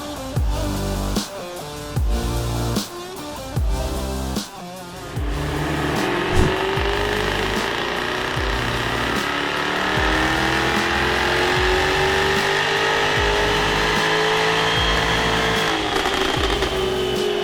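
A Jaguar F-Type's engine on a dyno starts with a few short blips, then revs steadily upward in one long, loud, continuous pull, rising in pitch until near the end.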